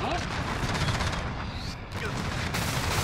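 Dense gunfire in a PC shooter video game, a continuous rattle of shots filling the whole stretch with a brief dip near the middle, heavy and close, with players talking over it.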